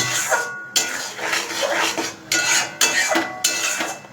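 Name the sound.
stirring and browning spiced meat in a pot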